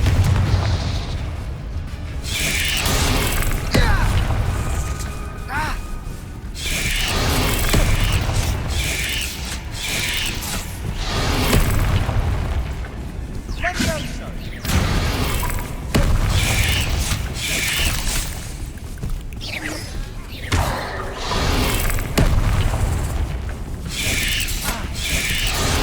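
Repeated booming blasts from the Confringo blasting curse in Hogwarts Legacy, loud and close, arriving in bursts over a dense clattering, mechanical game-combat bed with a few spell cracks between.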